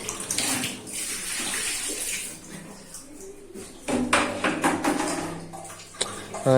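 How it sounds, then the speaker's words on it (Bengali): Running tap water splashes steadily over hands being washed in a washroom sink. The water is fairly close and continuous, with a brief dip around the middle before louder splashing resumes. No clear speech is heard. "হাত পাড়া একটু ধুয়ে নিলাম ওদের ওয়াশরুমের মধ্যে"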